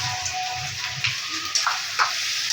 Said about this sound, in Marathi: तूप तापलेलं आहे, त्यात आता फोडलेला नारळ परतवून घ्यायचा आहे.